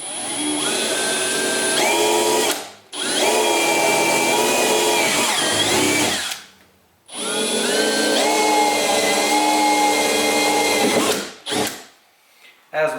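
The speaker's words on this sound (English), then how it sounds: "Now I'm going to drill some holes." Power drill boring holes for a Verus Engineering UCW rear wing on an S550 Mustang, running in three long, loud, close bursts separated by short pauses, with the motor pitch shifting as the bit works through the panel.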